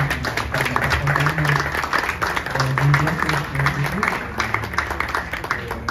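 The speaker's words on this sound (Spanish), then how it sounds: "Vamos a darle un gran aplauso" Audience at a literary event applauds warmly, a dense burst of clapping held for several seconds with a few voices mingled underneath.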